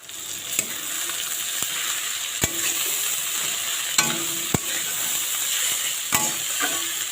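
Leutia greens fry steadily in a hot pan, a continuous bright sizzle with occasional sharp clicks and scrapes of stirring scattered throughout, close and fairly loud with no talking.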